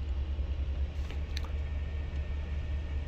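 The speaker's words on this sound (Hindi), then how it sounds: "इस वक्त ये गाड़ी अपने रेज अप हो रही है, अपनी मैक्सिमम हाइट पे जाएगी" A 2023 Toyota Land Cruiser raises its suspension to maximum height, giving a low, steady mechanical hum and rumble close by with a faint whir partway through, and no talking.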